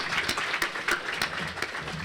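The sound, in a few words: applause for city staff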